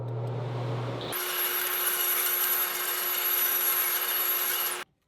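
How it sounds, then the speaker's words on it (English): A Poliroll abrasive band deburrs the back of a metal tube, giving a sustained, bright grinding rasp that starts abruptly after a low motor hum and stops cleanly about four seconds later. "this piece is still good to even deburr the back of this tube"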